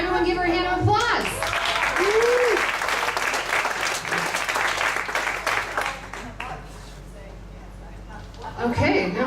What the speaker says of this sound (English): Everyone, give her a hand of applause.